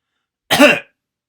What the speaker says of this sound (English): Now I coughed on purpose